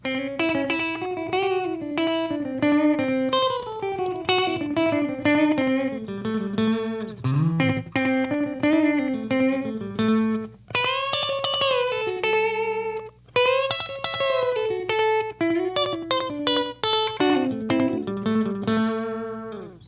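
Guitar played through a Catalinbread Belle Epoch tape echo pedal, melodic single-note phrases and chords ringing with repeating echoes trailing each note, loud and close with no talking.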